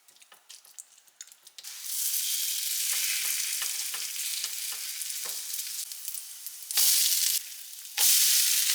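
Loud, steady sizzling of vegan galettes frying in a hot pan, with a few sharp clinks and scrapes early on and brief louder bursts of spitting near the end.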